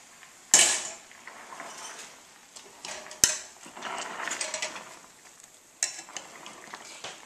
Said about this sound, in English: My rhubarb sauce is starting to boil, so I have a potato masher, and I'm just going to encourage the rhubarb to soften a little bit